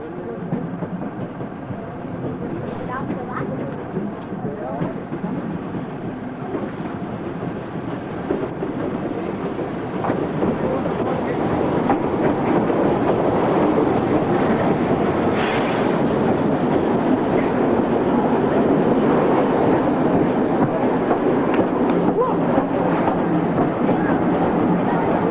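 A special train hauled by branch-line steam tank locomotive 93.1394 rolls into a station with a rising rumble and the clatter of wheels over rail joints, growing louder and nearer through the approach.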